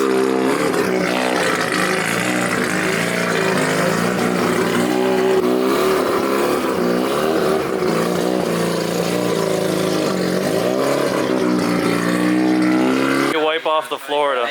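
A DCT rotary-powered Nissan S15 drift car drives with a loud, steady buzzing engine note that holds most of the time and cuts off near the end, with voices talking over it.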